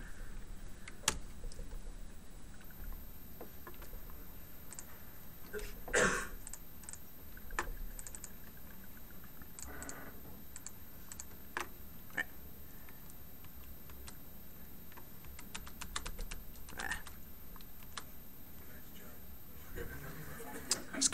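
Computer keyboard typing during a game studio build review, scattered keystroke clicks and clatter that come and go in bursts, with a few louder taps, under intermittent talk.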